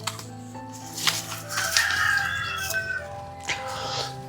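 A rooster crows, the call rising and drawing out over a couple of seconds at close range, with brief clucks before it and a short call after, in a yard of a well-bred flock of chickens kept at an old house.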